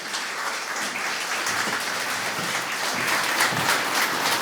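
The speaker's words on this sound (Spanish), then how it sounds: "Recibamos con un fuerte aplauso a Naomi Alcántara y Nancy Mariot." Dense, sustained applause from a large audience welcoming two hosts onto a stage, a steady wash of clapping that holds throughout.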